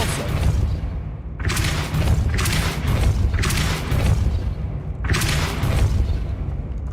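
Repeated whooshing magical bursts from the Depulso spell in Hogwarts Legacy sound over loud, rumbling game ambience, coming in a regular rhythm of about four blasts.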